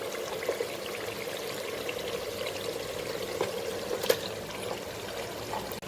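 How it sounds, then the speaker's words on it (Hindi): Chicken pieces go into a pot of boiling water spiced with onion, garlic and ginger, giving a steady watery simmering and splashing wash with a brief sharper splash midway, close and moderately loud, with no talking. "अब हम इसमें चिकन डाल देंगे।"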